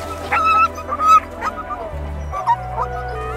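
Sled dogs yelp and bark in a busy, overlapping chorus of short high yips and whines, fairly close and continuous over a low steady rumble of moving sled and wind.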